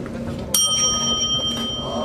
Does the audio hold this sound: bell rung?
yes